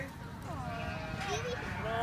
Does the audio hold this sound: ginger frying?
no